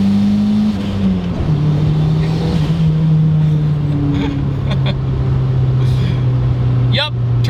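A big-turbo Honda CR-V engine holds a loud, steady drone that steps up and down in pitch as it revs, with brief voices and clatter near the end.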